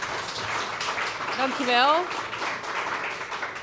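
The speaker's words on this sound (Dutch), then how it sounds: "een applaus vragen voor Kisia en ons mooie panel" An audience at a Dutch founding meeting applauding a panel, dense, even clapping throughout, with a short spoken thanks over it.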